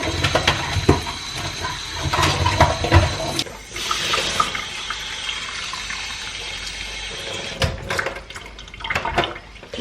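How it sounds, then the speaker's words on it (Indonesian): Water pours and splashes steadily onto an indoor houseplant, with gurgling and a brief pause before trickling resumes near the end. "Terus biasanya aku langsung siram kayak gini."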